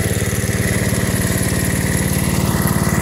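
A Wheel Horse Charger 12 garden tractor's small engine runs steadily close by, a loud, even mechanical chug with a fast regular pulse and no voices.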